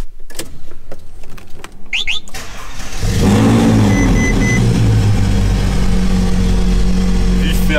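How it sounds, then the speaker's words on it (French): A Ferrari's engine starts and settles into a loud, close rumble with rising revs, preceded by a few clicks and short sounds while someone talks. "Vous allez voir comment la Ferrari se débrouille."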